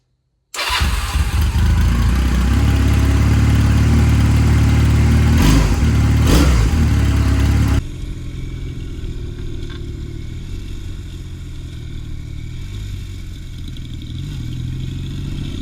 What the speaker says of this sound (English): here's my 2002 Honda Rebel.